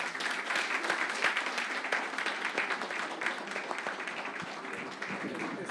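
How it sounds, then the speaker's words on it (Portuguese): Quieter audience applause after a literary reading, a continuous patter of many hands clapping heard at some distance and holding steady to the end. "Estou aplaudindo a interpretação."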